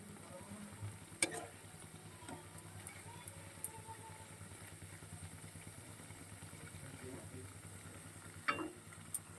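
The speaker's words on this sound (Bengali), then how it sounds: "একদম গ্যাস সিমে করে দিয়ে তারপরে কিন্তু ভাজাটা ভাজছি" Potato slices frying slowly in a pan over a low gas flame make a faint, steady sizzle, with a couple of sharp clinks near the start and end.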